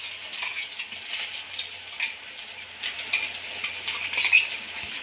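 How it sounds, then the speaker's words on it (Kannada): Dried chilli and garlic paste fries with onions in a pan, giving a steady soft sizzle broken by occasional light scrapes and stirs of a utensil. "ಹಾಕಿ ಹಸಿ ಸ್ಮೆಲ್ ಹೋಗೋವರೆಗೂ ನೀಟಾಗಿ ಹುರ್ಕೊಳ್ಳಿ"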